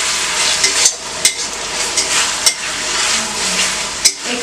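Macaroni sauce with Schezwan chutney is fried and stirred in a pan, a continuous close sizzle broken by periodic sharp spatula clacks against the metal.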